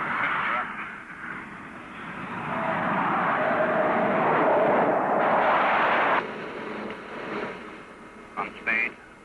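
A McDonnell Douglas F-4 Phantom jet on a landing approach, a loud broad jet roar that swells and holds before dropping away, with radio talk over it.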